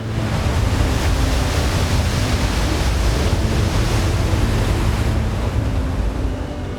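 Giant ocean surf with 60 to 80 foot wave faces breaking at Log Cabins, a loud continuous roaring wash with wind buffeting the microphone and no voices.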